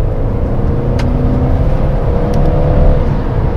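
A 2020 Mercedes GLB 220d 4MATIC diesel accelerates in comfort mode, heard from the cabin as a loud, steady low engine drone that builds slightly toward the end.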